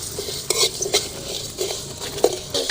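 A spoon stirs and scrapes six dried red chilies, coriander seeds, garlic and salt dry-roasting in a hot pan, giving close metallic clinks and crackles over a soft sizzle, with no talking.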